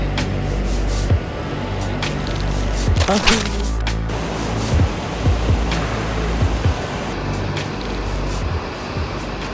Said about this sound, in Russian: Мы приехали на обед к невероятно красивому водопаду.